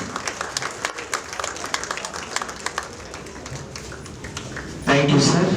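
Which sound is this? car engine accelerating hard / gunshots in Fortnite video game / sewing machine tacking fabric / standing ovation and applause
standing ovation and applause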